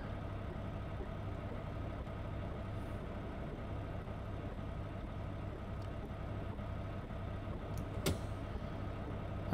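A steady, low car engine idles in a video game, a constant near rumble running unbroken with no talk over it and a brief sharp click near the end.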